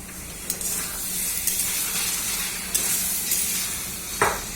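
Mutton dropped into fried, cooked-down spice paste sizzles loudly and steadily in the pot, with a few sharp scrapes and knocks of stirring and no talk.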